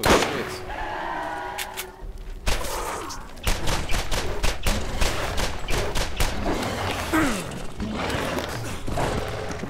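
Gunfire in the shooter game Borderlands: rapid rattling bursts of automatic fire and sharp shots crowd together, loud and close, with brief pauses, game effects and creature cries mixed in.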